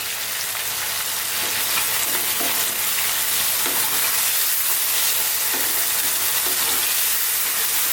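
Beef stir-frying in oyster sauce over high heat, giving a loud, steady sizzle that fills the whole stretch with occasional stirring clicks and no talk.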